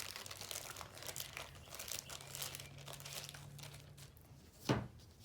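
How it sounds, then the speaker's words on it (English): A handmade clay flower tile is slipped into a plastic bag, giving close, soft crinkling and rustling throughout, then a single sharper crackle near the end. "put it back into the plastic bag for safekeeping"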